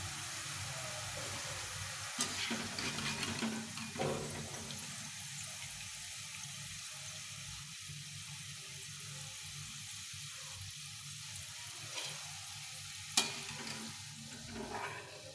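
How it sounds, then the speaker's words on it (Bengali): Chopped potatoes frying in a small wok, a constant dense close sizzle broken by occasional stirring scrapes and clatters, with no talking. "এই 3বারে সবটা ভেজে নিলাম।"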